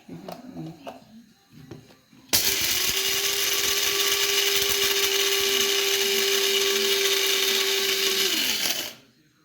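Electric coffee grinder milling beans in a home kitchen, a loud steady whirring drone that starts abruptly, holds for about six seconds, then spins down, with a voice talking briefly beforehand.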